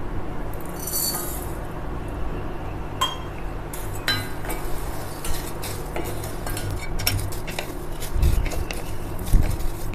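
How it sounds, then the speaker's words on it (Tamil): Vermicelli roasts in a frying pan as a utensil stirs it, giving quiet scraping, clinks and taps against the metal with a low background hiss. The stirring sounds are irregular and close, and there is no talking. "இப்போ அதே வடைச்சட்டியில் நம்ம சேமியாவை போட்டு வறுக்கலாம்."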